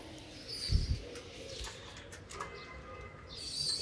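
Pigeons coo softly nearby, a low throaty call early on with faint chirps in the background.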